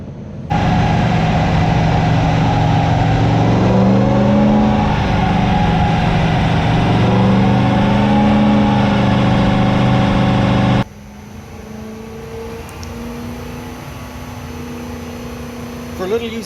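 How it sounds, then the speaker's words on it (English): A 1UZ V8 in a Zephyr, running on a Haltech 2500 Elite, howls loudly on a dyno, its pitch rising and falling for about ten seconds before it drops to a lower idle, with voices nearby. "for a little engine, it's pretty loud, eh?"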